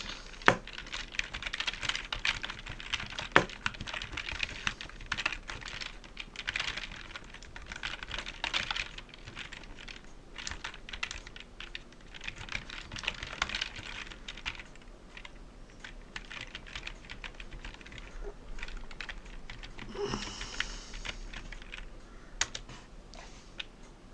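Typing on a computer keyboard, a long run of rapid, irregular key clicks with brief pauses, close and quiet, with no speech.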